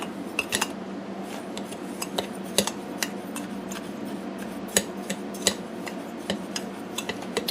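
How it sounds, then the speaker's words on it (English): Baking soda and citric acid being stirred in a bowl, with a utensil giving repeated light clinks and scrapes against the side at an uneven pace, close and fairly quiet. "Give that a stir, just to get it all mixed up here."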